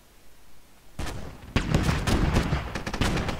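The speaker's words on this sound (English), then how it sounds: "I'm currently under rocket artillery fire." Rocket artillery fire in a video game battle: a rapid cluster of loud, sharp explosive cracks and booms following a brief rising rumble, close by and dense.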